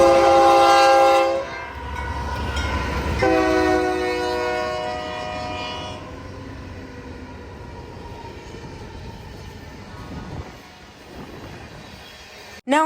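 A freight train led by a leased locomotive passes near Buda, Texas, opening with a loud sustained horn blast, then a heavy rumbling roll of wagons fading gradually.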